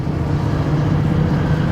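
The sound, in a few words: diesel exhaust brake on 2023 RAM 3500 dually Cummins truck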